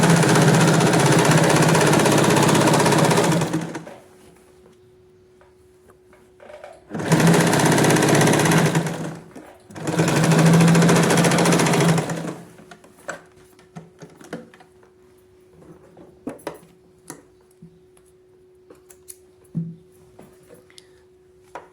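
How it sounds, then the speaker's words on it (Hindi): A sewing machine stitches a young girl's shorts in three loud bursts of rapid whirring, each a few seconds long, followed by a quieter stretch of faint clicks, handling noises and a low hum. "अब हम पूरी सिलाई नीचे तक लेकर आएंगे"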